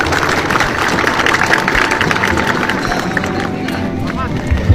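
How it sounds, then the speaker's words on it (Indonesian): A crowd of young military recruits cheers and claps at a gathering, a dense continuous wash of applause and shouting mixed with voices, fairly loud throughout. "Tepuk tangan ya."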